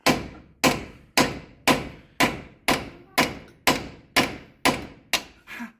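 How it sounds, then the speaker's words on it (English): A lump hammer pounding a Land Rover Discovery 2 Td5 front hub during hub removal, eleven heavy metallic blows at a steady rhythm, loud and close. "So the other side here, continue with the lump hammer."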